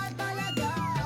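Large calico cats meow indoors, giving a couple of close, clear mewing calls in quick succession over a low background hum.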